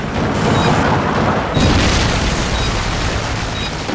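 A Predator missile strike in a first-person shooter game erupts as a loud, sustained explosive roar, with a second surge of rumbling blast about halfway through.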